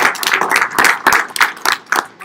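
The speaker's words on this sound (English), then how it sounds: "All right, have a round of applause" A seminar audience applauds with steady, rhythmic clapping, the claps landing close and regular for a couple of seconds with no talk over them.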